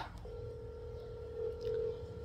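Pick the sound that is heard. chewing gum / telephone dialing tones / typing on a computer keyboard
telephone dialing tones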